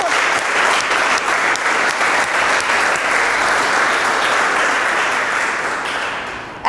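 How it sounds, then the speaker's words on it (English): Loud, dense applause from a classroom audience, many hands clapping together in a continuous roar that holds steady and then tapers slightly at the end. "Please clap for."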